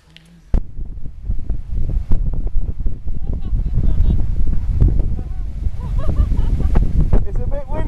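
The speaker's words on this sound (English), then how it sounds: "It's a bit windy!" Steady wind buffets the microphone, a continuous low rumble that runs from start to finish, with faint voices mixed in.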